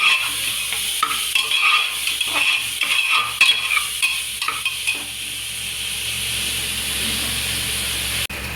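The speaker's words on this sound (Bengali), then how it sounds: "এবার সব কিছু দিয়ে ভাজা ভাজা করবো।" Spices sizzle in hot oil for rajma while a spoon scrapes and stirs the pan in irregular strokes, then the frying settles into a steady close hiss.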